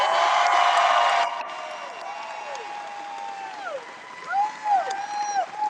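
A convention audience at a voice-actor Q&A claps and cheers, a dense burst of applause that quickly thins to scattered clapping and whoops under a speaking voice in a large hall.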